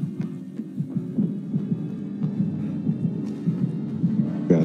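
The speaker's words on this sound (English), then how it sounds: "his heartbeat is getting louder" The killer's heartbeat in the Dead by Daylight game pounds in a steady, deep double-thump rhythm over a low hum, continuous and fairly loud throughout.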